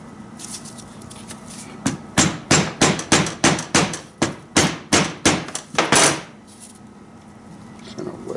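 Screwdriver struck repeatedly with a hammer to wedge out a gasket on a KX250F engine, about a dozen sharp metallic blows in a steady rhythm, close and loud, between quieter workshop sounds.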